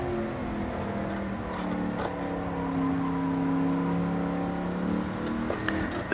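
A Pontiac GTO The Judge in Gran Turismo 7 runs with a steady, droning engine note that rises and falls gently as it pulls through the gears, with a few faint tire or mechanical chirps over the continuous hum.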